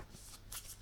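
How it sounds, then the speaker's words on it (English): Tarot cards shuffled in the hands during a reading, giving two short papery riffling bursts, close and fairly quiet, with no talk. "One more shuffle."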